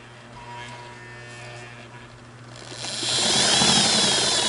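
A Singer Model 99K sewing machine stitching thick material, heard as a close mechanical hum and buzz that steps up to a louder, faster whir partway through.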